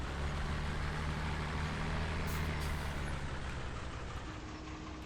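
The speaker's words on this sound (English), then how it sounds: "so we're gonna lower the drill" A Fendt Favorit tractor with the largest 614 engine lowers a seed drill in a farming video game, giving a steady loud diesel rumble with a brief hydraulic hiss partway through.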